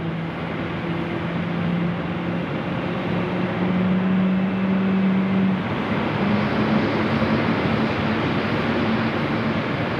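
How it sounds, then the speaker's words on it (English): A jet airliner's second engine spools up at night at Sydney Airport, a broad steady roar with a low rising whine sustained throughout, loud and continuous with no talk. "as we listen to the second engine start now."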